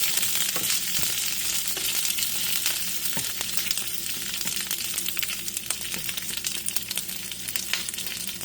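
Dried arbol peppers and garlic fry in a pan with a steady, dense sizzle, crackling and popping irregularly throughout at close range, with no voices.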